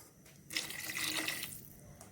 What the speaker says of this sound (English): To this, I'm going to add about 2 cups of water.